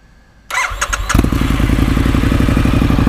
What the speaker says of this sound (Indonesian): kita akan coba tes ini dulu ya, cek sound dulu ya, seperti apa ya suara knalpotnya